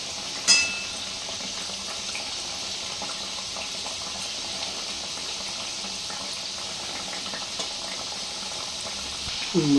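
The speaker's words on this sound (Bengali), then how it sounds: "এভাবে একটু ভালো করে ভেজে নিতে হবে" Raw banana koftas sizzle in hot oil over medium heat, a steady close frying hiss with faint bubbling and a couple of soft clinks.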